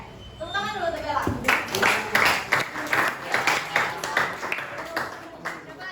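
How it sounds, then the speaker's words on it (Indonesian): Classmates clap for a student during a practice teaching lesson, a scattered round of applause that builds after a voice speaks at the start, then carries on unevenly at moderate volume in the room. "Tepuk tangan dulu untuk Bella."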